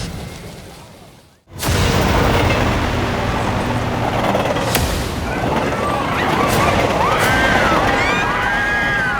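A burning train in an Indian superhero TV series: a sudden sharp boom breaks a quieter start, followed by a sustained loud roar with whistling, sweeping effects layered on top.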